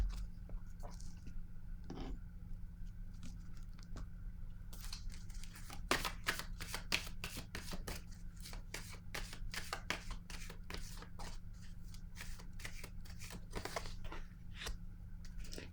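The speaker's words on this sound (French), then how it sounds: "Je vais piger une autre carte." Tarot cards shuffled and drawn in a quick run of crisp, close riffling clicks and slaps over a steady low hum, the snapping growing denser in the second half; no talking.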